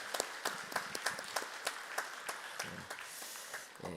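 A church congregation at a Sunday service claps in welcome, a fairly faint burst of irregular hand claps from a room full of people with no talk over it.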